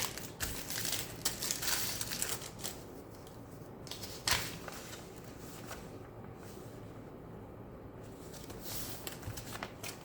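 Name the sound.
folding paper in half for a junk journal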